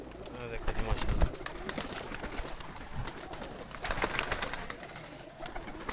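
Pigeons on a rooftop in Sialkot, soft cooing and fluttering mixed with background chatter and outdoor noise, moderately faint.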